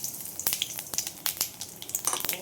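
Chopped onions dropped into hot oil in a pan for a thin chicken curry, crackling and sizzling close by with sharp irregular pops and spits over a steady frying hiss, with no voices.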